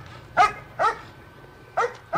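A dog barks in a scene from the 1981 horror film Halloween II, four sharp, separate barks in an irregular rhythm, fairly close and clear against a quiet background.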